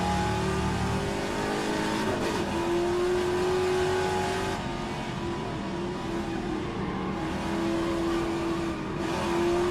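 A classic Trans-Am race car laps the Mosport circuit, its engine droning steadily and loudly from inside the car, rising in pitch under acceleration with sustained high revving through most of the run.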